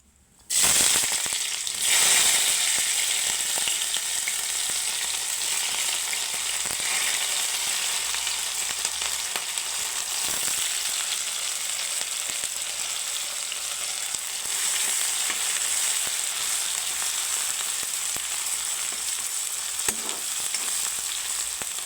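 Chopped large onion and green chillies frying in oil for cabbage and moong dal bhaji, a loud continuous sizzle that starts abruptly and stays steady, with occasional stirring clicks and no voices.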